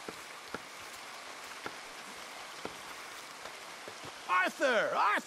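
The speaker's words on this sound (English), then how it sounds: "Come on, it's raining." Steady rain patters on surfaces in a Red Dead Redemption 2 scene, a soft continuous hiss with occasional drips, before a voice speaks briefly over it near the end.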